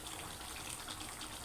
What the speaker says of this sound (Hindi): इधर पानी को बॉयल आ चुका है।